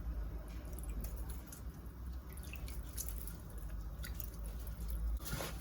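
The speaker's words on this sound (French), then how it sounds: "Bien mélanger pour pas voir les petites boules là" Couscous being mixed with water by hand in a bowl gives soft, continuous squishing and wet grainy rubbing, quiet and close, with a few faint drips and light clinks.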